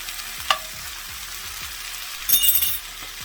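Steelhead trout fries in a pan with a steady, moderately loud sizzle, broken by a brief clink near the start and a short burst of sharper crackling later.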